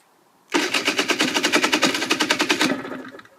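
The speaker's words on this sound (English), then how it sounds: "Right, then, let's try with the electric starter." An electric starter cranks an engine that won't fire, a rapid, regular chugging of about twenty even beats lasting a couple of seconds before it slows and stops, close and loud with no voices.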